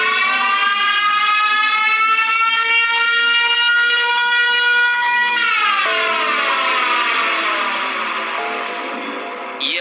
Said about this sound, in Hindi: साइरन हेड जोरदार आवाज निकालकर